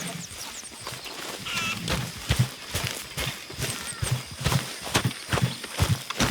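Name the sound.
horse hooves clip-clop in a video game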